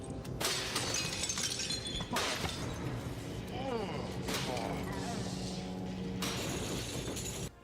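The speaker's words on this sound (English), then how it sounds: "by destroying glass cases with specimens in them" Glass specimen cases shatter in the video game Skinned Deep, several sharp crashes with bright tinkling debris across the stretch, heard over game music and a talking voice.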